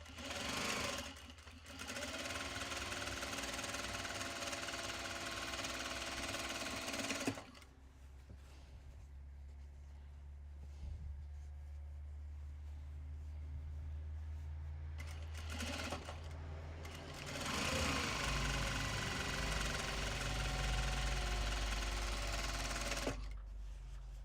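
A sewing machine stitches a reversible bag made from Japanese fabrics in sustained bursts of steady, close whirring, separated by a quieter pause of several seconds, with no talking.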